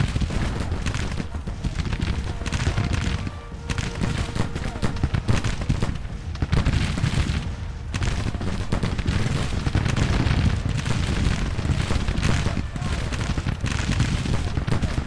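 Civil War artillery and musketry in a battle strategy game, with heavy booms and crackling volleys rolling almost continuously, loud and layered, with brief dips between salvos.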